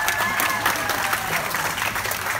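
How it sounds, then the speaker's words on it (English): An audience at the bear show at Clark's Trading Post in Lincoln, New Hampshire, applauds continuously, a dense, even patter of many hands that stays steady and fairly loud for the whole stretch. "But he'd like more applause."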